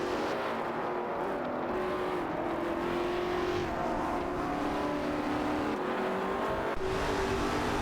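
Racing cars in a racing video game, including a Koenigsegg Agera RS, with engines droning and revving steadily throughout as several cars battle closely for position, loud and continuous with no voices.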